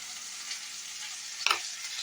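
Spice paste with cashews frying in a pan for kofta curry, a continuous bright sizzle with one sharp stir or clatter midway, close and alone without speech.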